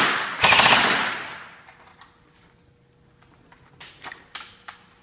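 Magpul Masada airsoft rifle firing a long fully automatic burst, loud and close, followed by a few short separate bursts with mechanical clicks in between, no talking.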